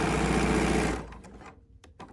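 A BERNINA sewing machine stitches a patchwork seam in a loud steady whir that stops abruptly partway through, followed by faint handling noises.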